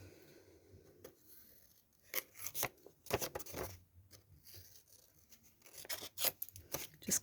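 Scissors trim excess bits off a craft project in a few quiet, scattered snips and crunchy cuts, with short pauses between them.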